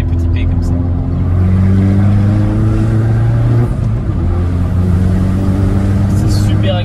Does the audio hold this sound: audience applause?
no